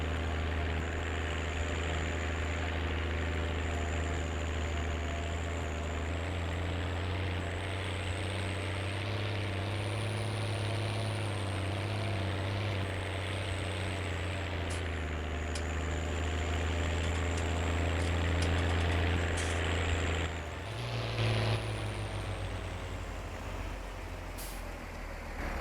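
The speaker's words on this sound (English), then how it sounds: "I do like the sound on this tractor" Tractor engine idling in Farming Simulator 19, a steady low diesel drone with a constant hum and faint hiss, loud and unbroken, with a brief shift near the end.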